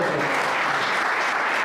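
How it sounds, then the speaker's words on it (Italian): An audience at a poetry event in Mussomeli applauds the organizer, a dense, loud, even wash of many hands clapping that holds steady throughout. "Quindi con l'applauso"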